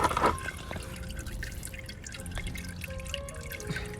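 Warm motor oil drips from a Subaru Impreza WRX during an oil and filter change, small soft drips and a faint trickle into a container against a quiet garage background.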